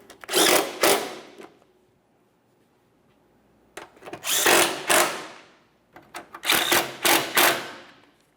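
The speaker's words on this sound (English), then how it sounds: "Now that we have all of them started in, Let's tighten it up." Headlamp assembly bolts being tightened on a 1994-1997 Honda Accord with a power tool, three separate loud, close bursts of several seconds each, with quiet gaps between them and no talk.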